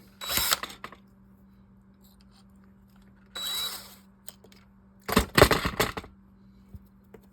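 Carbon fiber drag washers for an Olympic Spark VO 1800 reel drilled out while held in duckbill pliers: three separate high whining bursts of a small drill, close and moderately loud, the last one longer with rougher grinding.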